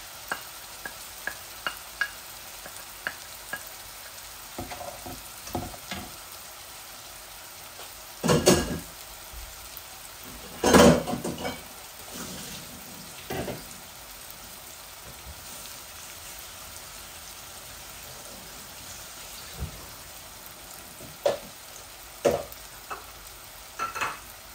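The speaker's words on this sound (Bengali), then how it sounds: "এই মশলাগুলো একটু ভাজা ভাজা হোক" Bay leaf, ginger and garlic fry quietly in a pan for a chicken bhuna, with a soft patter of sizzling and a few louder stirring scrapes in between.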